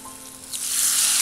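Hot oil tempering with turmeric is poured into a mango curry, starting with a quiet hum and then bursting into a loud, steady sizzle that holds to the end.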